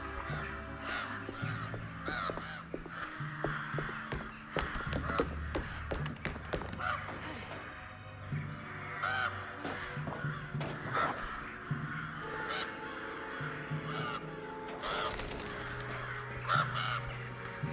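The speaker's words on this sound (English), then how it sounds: "Fuck off, crows." A crowd of crows caws insistently in the Alone in the Dark video game, with many overlapping harsh calls and scattered taps continuing for a long stretch over a low background drone.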